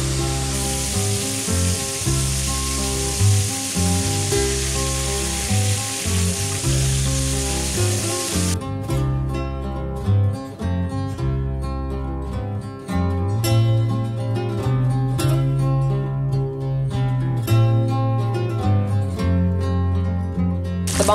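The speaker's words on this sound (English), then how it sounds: "We're gonna saute them with a little bit of butter." Peppers and onions sauté in butter in a skillet with a constant close crackling sizzle, joined by soft background music, no voices.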